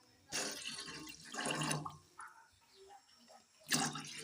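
Three cups of water poured into a saucepan on a kitchen stove, heard as splashing bursts of liquid hitting metal in a few separate pours, fairly faint and close.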